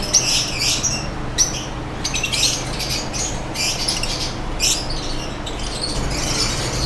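Aqua opaline pale fallow budgerigar pairs in a breeding cage chirp and squawk steadily, a dense overlapping chatter of several birds at close range with no talking.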